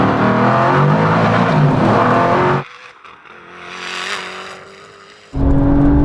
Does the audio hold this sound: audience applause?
no